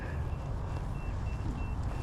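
Faint, intermittent vehicle reversing beeps sound from a distance, short steady tones repeating over a constant low rumble of engine or traffic noise, with no voices.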